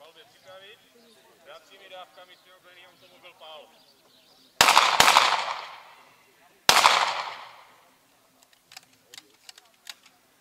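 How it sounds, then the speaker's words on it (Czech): A historic military machine gun at a wartime commemoration fires two loud, short bursts outdoors, following speech; faint clicks and handling noises come afterward. "kulomet nesklamal a předvedl nám svou pověstnou spolehlivost, nebo spíše nespolehlivost tedy"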